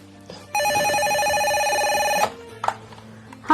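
One long, close telephone ring sounds loudly for almost two seconds and then stops. Brief faint background noises follow.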